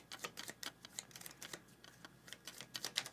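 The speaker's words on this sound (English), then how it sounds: "So I'm going to shuffle these." A deck of game cards is shuffled during a solo board game session, giving a quiet, rapid patter of crisp card clicks and flicks close by, with no voices.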